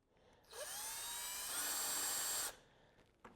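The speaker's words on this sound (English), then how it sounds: "Drill that out." A power drill with a 7/32 inch bit bores a mounting hole for a skid plate on a Polaris RZR, a high whining burst lasting about two seconds that starts and stops abruptly, close and alone.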